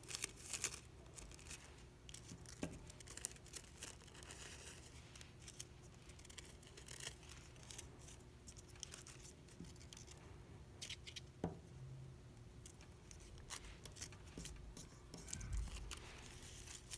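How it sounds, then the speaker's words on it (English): Thin tissue paper being pulled and torn apart for a children's mitten craft, close and quiet, with soft papery rustles, scattered sharp rips and crinkles over a low steady background hum. "And apparently the tissue paper does not want to come apart."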